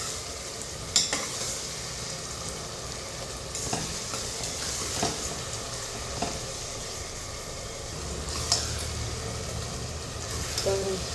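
Tomatoes frying with salt in a pan on a home stove, a continuous close sizzle broken by repeated scraping stirs and occasional sharp utensil clinks, no clear talking.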